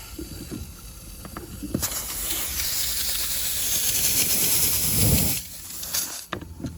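Steam hisses loudly and steadily for several seconds during repair of a 1930s Supertone guitar neck, starting abruptly and cutting off, with light clicks and handling noises around it.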